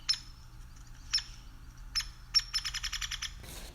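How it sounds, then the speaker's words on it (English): A hairy woodpecker gives short, sharp single 'peek' calls, a few spaced notes followed by a quick rapid series, fairly clear against a quiet background. "the hairy woodpecker has a call that goes like peck, like this"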